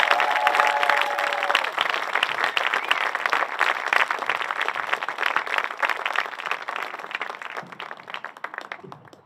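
Loud, sustained applause and clapping from a crowd honoring a graduating class of 2021 at an Upper Nyack school ceremony, dense and continuous, fading slightly toward the end.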